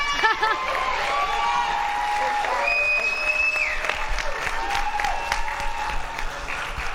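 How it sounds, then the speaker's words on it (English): An audience at a live tabletop role-playing show at GenCon applauds steadily throughout, with scattered voices and a few whoops mixed into the clapping. "Please stand and applause for Miss Strawberry 13."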